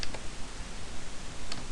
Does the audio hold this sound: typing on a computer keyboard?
yes